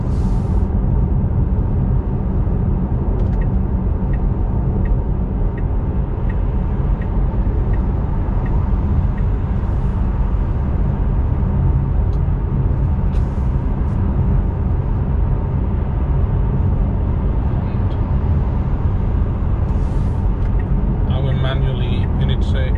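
A Tesla Model 3 on Autopilot merges onto a Swedish motorway, filling the cabin with a steady, loud low road rumble and tyre roar that stays even throughout, with a few faint clicks near the end.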